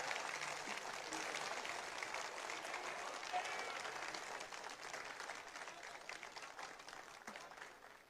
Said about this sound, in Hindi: अब समझ में आया कि कैसी तालियां होनी चाहिए थी